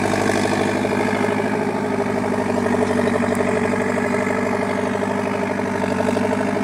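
A Belarus 920 or 825 tractor hauling cassava through a farm field runs its diesel engine steadily at a low idle-like throttle, loud and close, with a constant even rumble throughout and no talk.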